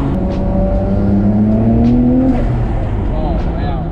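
A Nissan Skyline R34 GTR pulling hard in first gear, its engine note rising in a loud, close, steady climb as revs build, heard from inside the car.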